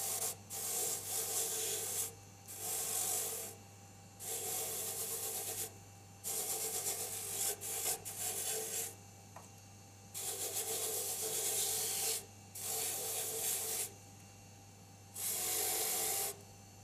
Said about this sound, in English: Moving it around will work the pumice into the denture and remove any light scratches and bumps.